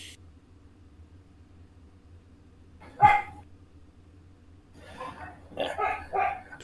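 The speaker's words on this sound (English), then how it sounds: "It's just a dog in the background in the keep." A dog barks in the background of a home tabletop role-playing session: one sharp, clear bark, followed a couple of seconds later by a few softer, muffled sounds over faint room hiss.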